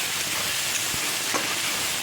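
Vegetables frying in hot oil with turmeric, a steady broadband sizzle filling the whole short stretch with a couple of faint clicks of stirring.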